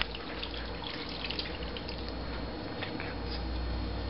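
Water runs steadily into a pan of simmering sauce, a continuous close splashing pour with a soft liquid rush that holds even for several seconds.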